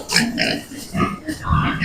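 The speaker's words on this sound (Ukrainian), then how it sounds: "Це воно це вийшло рябеньке свиня 27 кілограм." Pigs grunt in short bursts while two-month-old piglets are weighed on a farm, close and fairly loud, mixed with someone talking.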